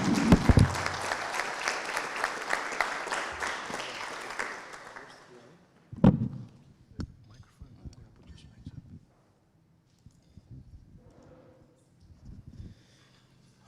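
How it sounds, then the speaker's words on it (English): Audience applause at a professional society meeting fills the first few seconds densely, then fades to scattered claps, followed by a few sharp knocks and quiet handling noise. "Please give me a round of applause for Billy Bardin."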